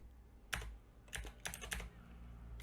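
Faint keystrokes on a computer keyboard come in a few quick clusters of clicks over quiet room hiss.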